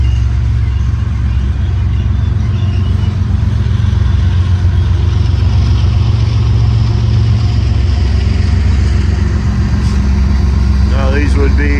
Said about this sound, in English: He's got some helper locomotives on the rear